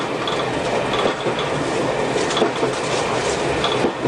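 Train running on rails on a line serving Romford, Wickford and Sudbury, heard from onboard: a loud, continuous rumble with steady wheel clatter and faint rhythmic clicks, no voices.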